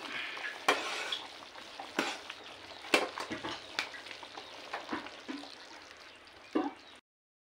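Fried gobi (cauliflower) stirred into Manchurian sauce in a pan, with a soft steady sizzle broken by scattered scrapes and clinks of the spoon against the pan, close and fairly quiet, with no talking.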